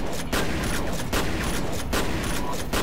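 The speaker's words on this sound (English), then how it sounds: "Snipe him with the shotgun." Repeated heavy gunfire in the video game F.E.A.R., with loud shotgun-like blasts at roughly half-second to one-second intervals under a dense, continuous combat din.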